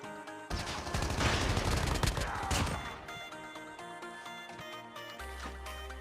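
Gunfire in the mobile battle royale game Call of Duty Mobile, a dense run of loud rapid shots over the first few seconds, then lighter game sounds and music-like tones, with no talk.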